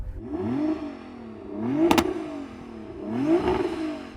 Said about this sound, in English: Hey Rocky, so you've obviously got an uprated exhaust on your GTR as well, but does it sound as good as this M5? Do you want to give it a rev